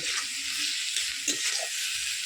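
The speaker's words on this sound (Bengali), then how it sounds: "মাংসটা দিয়ে দিলাম, ভালো করে একটু নেড়ে চেড়ে" Chicken legs fry in a pan with a loud, constant hiss of sizzling oil, broken by a few soft scraping stirs of a utensil.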